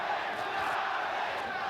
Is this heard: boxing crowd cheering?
yes